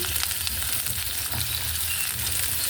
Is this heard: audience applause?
no